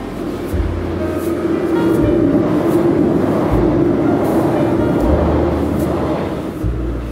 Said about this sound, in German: Kam gerade ein Zug vorbei.